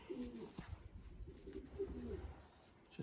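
A young racing pigeon held in the hand gives soft, low coos in a couple of short rolling phrases, close but quiet against faint background noise.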